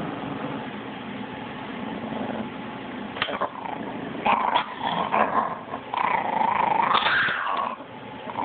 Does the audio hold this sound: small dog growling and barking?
yes